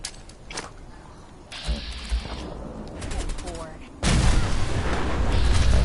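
Weapons fire in Fallout 4 erupts as a loud, dense burst of gunshots and booms that swells into a sustained roar over the final seconds, with a voice speaking over the earlier shots.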